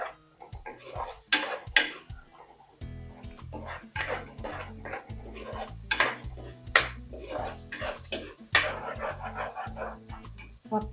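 Chili, coriander and turmeric powders are stirred into a pot for fish curry: irregular metallic scrapes and clanks of a spoon against the pan, close and intermittent, with quieter gaps between strokes.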